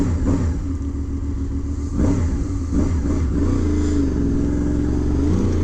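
A 2007 Honda VFR800 Interceptor 25th Anniversary motorcycle runs with a steady mid-pitched engine drone that swells and dips as it revs, loud and close with a slight pitch sweep near the end.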